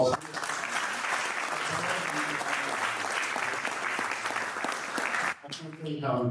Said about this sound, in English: go ahead and give Khalil a round of applause